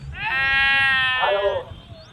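A sheep bleats once, a long wavering, close and loud call, at the Balumama shrine grounds with many sheep and other livestock, with soft background noise around it.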